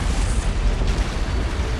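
An antimatter charge detonates aboard a ship in a Halo cutscene, a loud, sustained deep explosive roar with a sharp burst partway through, heavy rumble throughout and no voices.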